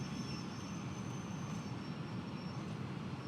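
Steady rumble and clatter of a train rolling along rails in Train Sim World 6, a continuous moderate drone with a faint high whine above it.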